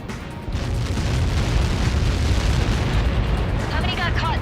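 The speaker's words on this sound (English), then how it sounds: "How many got caught in that explosion?" A massive Helios projectile blast in Ace Combat 7, a loud, sustained rumbling roar that swells quickly and holds close and heavy, with faint chatter near the end.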